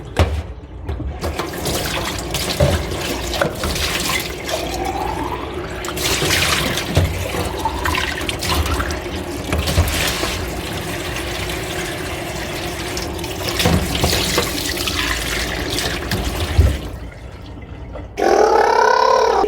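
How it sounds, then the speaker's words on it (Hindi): Tap water running steadily into pet feeders, a continuous trickling and splashing fill that lasts throughout, close and fairly loud, with a brief change in the flow near the end. "और इनको पानी भर लेते हैं।"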